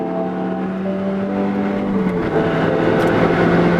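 A Peugeot 308 R Hybrid car engine revs loudly and steadily, its rising harmonic tones building and holding close up with no talk.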